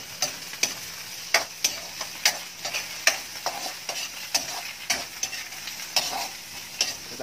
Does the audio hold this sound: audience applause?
no